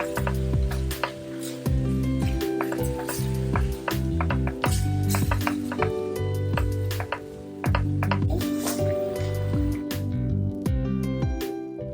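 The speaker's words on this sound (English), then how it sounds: "now we just stir it to combine and bring it to a boil" Chicken broth and cannellini beans are stirred in a pan, making a steady run of soft squishing, tapping and sizzling sounds up close, with no talk.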